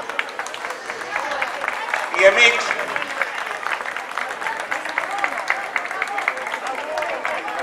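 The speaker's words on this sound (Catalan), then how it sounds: "Demaneguem un fort aplaudiment per ells." Steady applause from a crowd at an outdoor sardana dance event in Tarragona keeps going throughout, with a voice speaking briefly in Catalan over the clapping.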